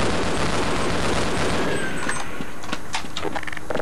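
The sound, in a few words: gunfire from the video game Half-Life: Blue Shift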